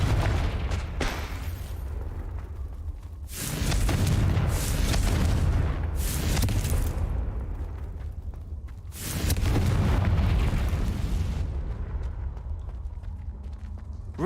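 Confringo fire spells burst in repeated booming explosions in Hogwarts Legacy, two big blasts landing several seconds apart over a rumbling game soundscape, with no speech.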